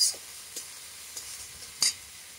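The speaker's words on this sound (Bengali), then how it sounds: "টমেটো আর পেঁয়াজটা একটু ভালো করে ভাজা ভাজা হয়ে এলে" Tomato and onion frying in a pan, a faint steady sizzle punctuated by a few sharp spoon scrapes and taps spaced apart.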